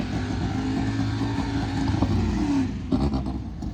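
A budget all-motor K24-powered race car with a dogbox accelerates hard on a track-day pass: a loud, continuous engine roar whose pitch climbs, then briefly dips and surges again near the end, with no talking.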